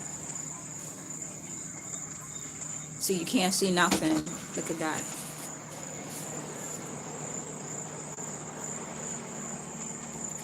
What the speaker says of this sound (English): so y'all can hear these crickets